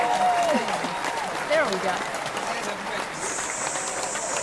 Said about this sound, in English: We usually have a wonderful applause